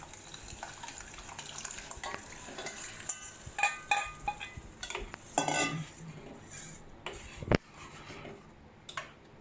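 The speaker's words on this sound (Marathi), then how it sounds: "आता लगेच आपण डाळ टाकणार आहे याच्यात।" Cooked dal is poured and stirred into green masala with turmeric in a pan for a sweet drumstick dal, giving soft scraping and metal spoon clinks, a sloshing pour in the middle and one sharp knock.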